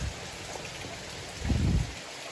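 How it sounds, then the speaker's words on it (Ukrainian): Heavy rain falls steadily outdoors at a countryside dacha during a thunderstorm, a constant hiss with a brief deeper low swell midway, and no voices. "У нас такий дощ пустився, блискає, гримить."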